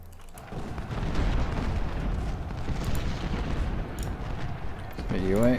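Cannon fire in Ultimate General: Civil War at the Second Battle of Winchester, heard as a low, rolling rumble of booms under battle noise, with a voice speaking briefly at the end.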